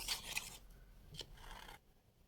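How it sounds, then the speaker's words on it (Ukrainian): Scissors snip through a folded sheet of paper along a drawn outline for a kindergarten toothpaste-and-toothbrush craft, with soft close cuts and rustling, quiet overall. "Згинаємо аркуш навпіл і вирізаємо по контуру обережно."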